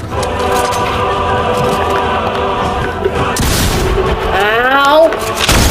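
Video-game shotgun blasts ring out loud and close over a steady droning game soundscape, followed by a burst of rising, warbling electronic effects near the end.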